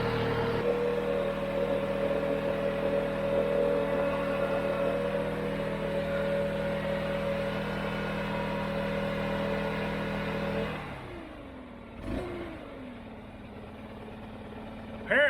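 A Stihl BR800CE backpack leaf blower engine runs at a steady, loud high idle with a droning whine, then cuts off abruptly, followed by a brief sputter and a few faint knocks.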